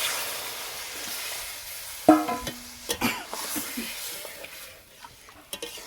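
Boiled mung dal goes into hot tempering in a pan, setting off a sudden sizzle followed by scraping and clinking from stirring, with the frying crackle continuing underneath.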